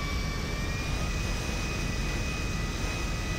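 A jet aircraft in GTA Online roars steadily while landing, a loud continuous engine rush with a high whine riding over it, no voices.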